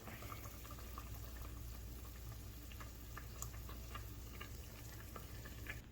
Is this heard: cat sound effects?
no